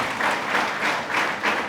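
An audience at a charitable trust and JCI event in Karkala applauds government school students, a steady wash of many hands clapping that swells and eases in gentle waves.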